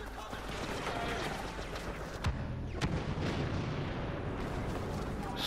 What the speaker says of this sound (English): Just grenades everywhere.